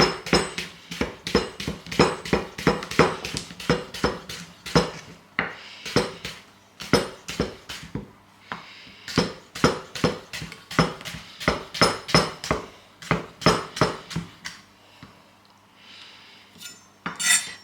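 A knife slices a cucumber on a cutting board in a kitchen, with a long run of crisp, evenly spaced chopping taps and a brief pause partway through.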